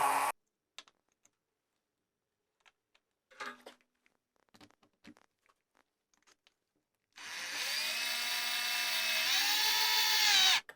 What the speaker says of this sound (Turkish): Yine az bir miktar delerek yuvasını açıyorum